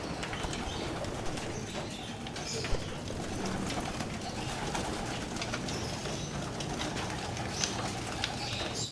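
Pigeons in a loft aviary fill the air with a steady wash of soft cooing, rustling and occasional wing flaps, a dense, continuous flock murmur with no single bird standing out.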